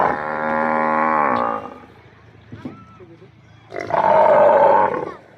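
Local Banaskantha cow, a pregnant second-calving animal in good condition, gives two loud, long moos separated by a quieter gap with faint background noise.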